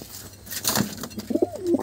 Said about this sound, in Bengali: এই পায়রাটা একবার ছেড়ে দেখাই